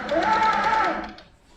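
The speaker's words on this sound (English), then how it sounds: "I'll just do a little bit of test stitching here." A sewing machine runs a short burst of test stitching on fabric, a fast whirring hum that is close and clear, then winds down quickly.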